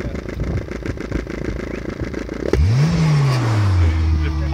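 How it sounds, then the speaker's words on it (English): Peugeot 206 fitted with a new aftermarket exhaust, engine revving hard in one big rising burst that peaks and then falls back toward idle, loud and close, after a stretch of steady rumbling. "big rev, big rev"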